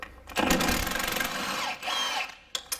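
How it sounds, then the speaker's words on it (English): A power tool whirs steadily for about two seconds while taking a bolt off the front strut of a Toyota Yaris, then stops, followed by a couple of brief clanks near the end. "let's go ahead and take off this bolt here"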